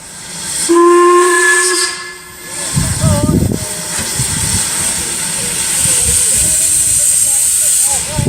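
A loud steam train whistle on a heritage railway sounds with harmonic tones, followed by hissing steam and rumbling train noise, with faint voices in the background.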